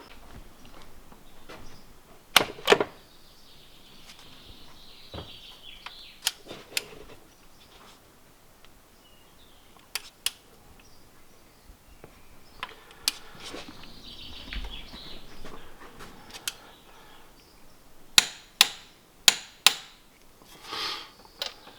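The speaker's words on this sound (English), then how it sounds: "So we've got the torque wrench set to 110 Newton meters. We're going to torque that head stud." A torque wrench tightening an ARP head stud on an RB25 NEO engine with the cylinder head still fitted, set to 110 newton meters, gives scattered sharp metallic clicks and ticks, with a tight cluster of louder clicks near the end.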